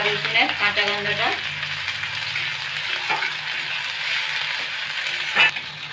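Garlic and ginger paste fries in a pan with a loud, steady sizzle while a spoon stirs it, scraping now and then and knocking once near the end; no voices.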